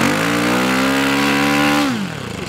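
A small engine on a model P-38 airplane revs high and steady, a loud buzzing close by, then drops sharply in pitch as the throttle is cut near the end.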